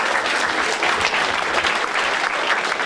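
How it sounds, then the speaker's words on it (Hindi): Steady, dense applause from a stand-up comedy show audience, continuous and loud throughout the short stretch with no talk over it. "बट एक बार ताली बजाओ इसके लिए।"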